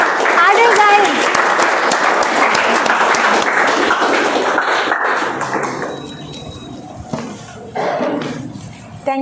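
An audience at a Toastmasters meeting claps steadily for several seconds, a dense, fairly close burst of applause that thins out and tapers off, with a few stray claps and a voice near the end.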